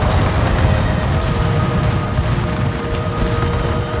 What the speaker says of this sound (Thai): ยิงไปนะ